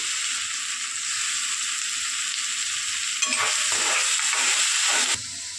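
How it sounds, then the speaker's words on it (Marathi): Onion, garlic and curry leaves fry in hot oil with a loud, steady hiss and crackle, and a burst of stirring and scraping in the pan comes partway through before the sizzle settles again. "कांदा लसूण कढीपत्ता मस्त तेलावरती आपला फ्राय होते."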